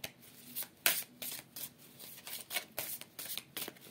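Oracle cards being handled and shuffled to draw one, giving soft papery riffles and slaps in irregular bursts, close and quiet, with no talking.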